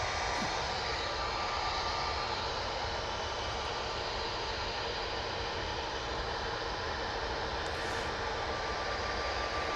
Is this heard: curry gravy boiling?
no